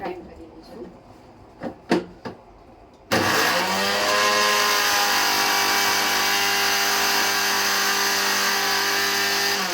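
A mixer grinder switches on abruptly after a few soft clicks and handling sounds, then whirs loudly and steadily while grinding podi masala spices with chilli and salt, the motor holding a constant high whine.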